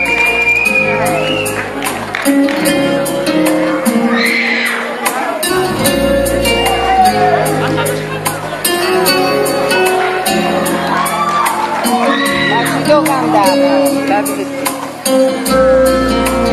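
A theatre audience at Teatro Cilea greets a singer with loud, sustained shouts and whoops, some scattered clapping underneath, and music playing throughout.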